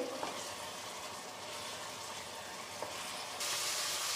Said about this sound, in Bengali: খুব ভালো করে গোল্ডেন ব্রাউন করে ফ্রাই করে নেব।